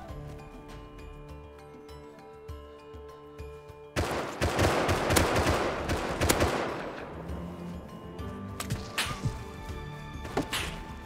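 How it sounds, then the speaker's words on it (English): Gunfire in the survival video game Rust: after a quiet stretch with a low tonal background, a burst of rapid automatic shots erupts, followed by scattered single cracks at varying distances. "Hearing an unnaturally large amount of gunshots coming from this direction."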